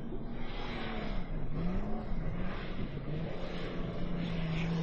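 A rally car runs flat out through tricky sandy dunes, its engine droning steadily with rising and falling pitch as the revs shift, heard close and continuous.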